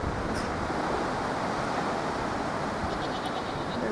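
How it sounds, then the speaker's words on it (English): Strong wind blowing in Holland, a dense continuous roar buffeting the microphone at steady loudness throughout, with no talk. "Because the wind is so strong."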